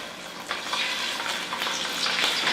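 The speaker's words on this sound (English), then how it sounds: "you should hear a little sizzle when you put the salmon in" Close, steady sizzling of salmon frying in a hot pan, a continuous crackling hiss with occasional louder spits, no talking.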